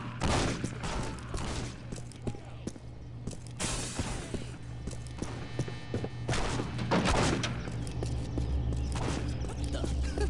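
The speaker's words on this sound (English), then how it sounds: "Shots fired!" Rapid gunfire crackles in bursts during Postal 2 gameplay, repeated volleys loud and close over a steady game background hum.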